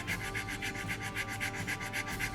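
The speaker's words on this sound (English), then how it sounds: "that's what I'm doing right now, is I'm sanding" Hand sanding on the wooden fuselage of a Top Flite P-40E Warhawk model airplane, a close, brisk back-and-forth rasp repeating in quick even strokes with no pauses.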